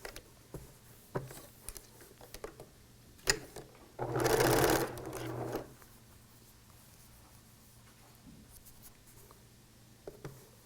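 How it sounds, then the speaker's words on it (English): Sewing machine stitching two T-shirt quilt blocks together, a single steady whirring burst of about a second and a half at close range, framed by quiet fabric handling and light clicks before and after. "So I line these two blocks up and sew."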